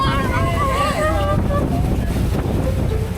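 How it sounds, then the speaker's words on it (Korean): A tour boat on a Niagara Falls cruise pulls away, its engine rumbling under strong wind buffeting the microphone while people talk nearby. "자, 이제 보트가 출발합니다."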